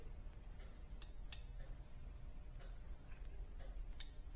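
Fuel injectors on a Scion iQ, checked during a coil and spark plug job, give a few faint, sharp ticks at irregular intervals over a quiet hum, with no talking.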